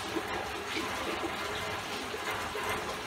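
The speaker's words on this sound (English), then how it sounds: "Pump some salt water into the tank." Salt water rushes steadily as a pump drives it through upgraded 2-inch PVC plumbing into an aquarium tank, a continuous close hiss and gurgle of flowing liquid with no talk.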